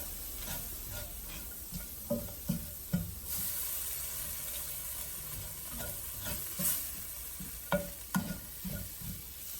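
Red lentil dal base with a teaspoon of turmeric being mixed in a pan, a soft steady sizzle broken by irregular spoon scrapes and light knocks, close and unhurried, with no talking.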